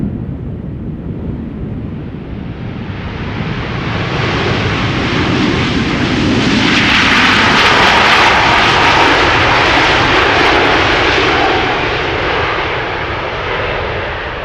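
At Schiphol Airport, a landing airliner's jet engines swell into a loud, rising roar as the thrust reversers deploy, peak, then slowly ease off, heard from a distance outdoors with some wind.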